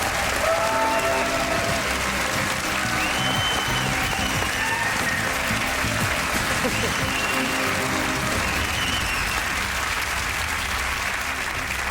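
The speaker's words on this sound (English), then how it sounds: "Give them a cheer." Sustained, loud applause and cheering from a television game show studio audience, a dense continuous roar of clapping that holds steady throughout, with a voice faintly underneath at times.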